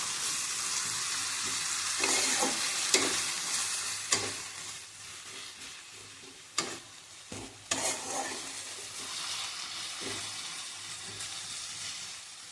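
A spice masala of onion, tomato and ginger-garlic paste fries in oil, a continuous sizzling hiss with repeated scraping stirs and clinks of a spoon against the pan.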